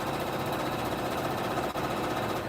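A sewing machine runs steadily, stitching along the edge of a printed fur blanket guided by the presser foot, a close, continuous motor whir and needle chatter with a brief dip near the end and no talking.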